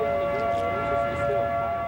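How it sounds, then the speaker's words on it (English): A civil defense siren blares during a tornado in the Mount Washington area, a steady, loud wailing tone with sustained harmonic layers, continuous and unbroken throughout. "The sirens blare and the debris flies as it roars through the Mount Washington area."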